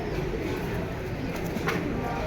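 Pigeons cooing at a crowded pigeon market, low murmuring coos under a thick bed of nearby chatter and general crowd noise.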